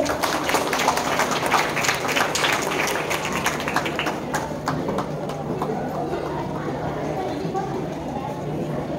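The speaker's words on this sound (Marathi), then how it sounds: "जोरात टाळ्या वाजल्या पाहिजे।" A crowd at the opening ceremony of a state youth games event claps loudly in a fast, dense patter that runs through the whole stretch and eases off slightly toward the end.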